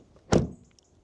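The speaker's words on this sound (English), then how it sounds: "Then door closing sounds." The door of a 2025 Renault R5 electric car shuts with a single short, fairly loud thud with a slightly tinny, sheet-metal ring, followed by faint quiet clicks.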